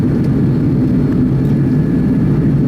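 Jet engines of an Airbus A330 roar loudly and continuously during takeoff from Amsterdam, heard from inside the cabin as a dense, low, steady rumble.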